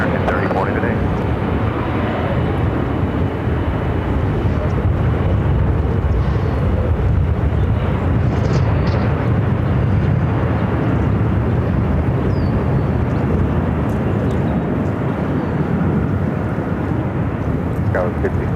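A jet airliner takes off from runway 25 right at Phoenix Sky Harbor airport, producing a steady, loud broadband engine roar that holds for the whole stretch, heard from a distance with wind buffeting, and voices talking faintly underneath.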